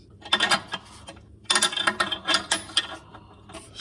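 Metallic clicks and rattling clanks sound up close as O2 sensors are worked out of a Nissan G35 car engine, coming in two bursts of sharp, irregular knocks separated by a short quiet gap.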